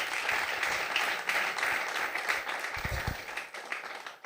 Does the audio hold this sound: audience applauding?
yes